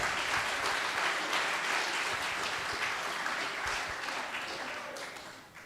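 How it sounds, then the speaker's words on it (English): A crowd at an awards grand final gives teachers a round of applause, steady clapping that holds strong and then fades out toward the end. "can you give them a high five, a pat on the back, a round of applause"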